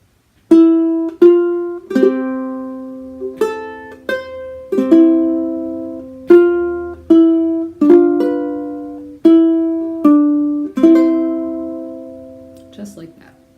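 Ukulele picks out the chord melody of Wildwood Flower, a string of about a dozen plucked chords with a melody note on top, each ringing and decaying in a steady, moderate rhythm, played close and clear with no talking.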